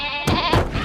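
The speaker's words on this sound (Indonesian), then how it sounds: "dipanggilkan kambing penenang yang bernama Lepi" A goat named Lepi bleats in an animated film, a short loud wavering cry broken into two or three quick pulses, close and alone.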